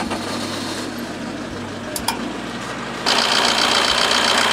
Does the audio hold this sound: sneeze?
no